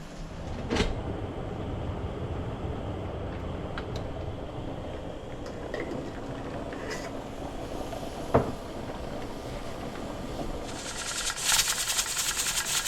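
A pressure canner processing jars of venison, weighted up to about 10 pounds, gives a steady hiss that runs throughout alongside low rumbling, with a few sharp clicks and a brighter burst of steam near the end.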